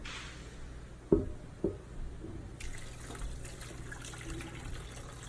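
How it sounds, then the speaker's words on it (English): Broth made from Maggi cubes poured over a roast in a pan, a soft steady trickle and splash of liquid with a couple of light knocks at the start, close and quiet. "Okay, so the broth is ready. I used about 4 of the Maggi cubes, and I'm going to just pour this over."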